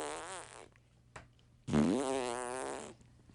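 A comic fart sound recreating a girl passing gas in class, two drawn-out buzzy blasts close up, the second louder and longer, with a faint thump between them.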